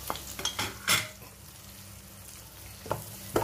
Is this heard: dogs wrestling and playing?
no